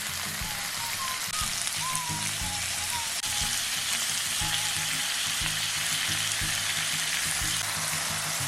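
Thin-sliced frozen pork belly sizzles loudly and steadily in a hot pan, a dense continuous hiss laid over a low, rhythmic backing beat, with no voices.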